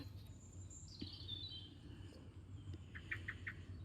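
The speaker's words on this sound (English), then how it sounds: "There's blackbird." A blackbird singing near an English church, faint and distant chirps and a short run of repeated bright notes over quiet outdoor background.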